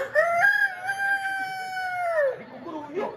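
Rooster crowing during a Balinese Calonarang performance in Lukluk, one long sustained harmonic crow lasting about two seconds, fairly close and loud, followed by brief noise.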